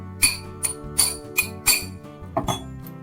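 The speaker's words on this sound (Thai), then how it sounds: "วลาเราเคาะลูกปืนนะครับ ถ้าลูกปืนมันลงสุดนะครับ เสียงเสียงตอนเคาะมันจะดังแน่นๆนะครับ" Sharp metallic taps ring out one after another, about a dozen quick knocks with short pauses, close and clear in a quiet space, as a bearing is tapped fully into place while reassembling a Stanley 4-inch angle grinder.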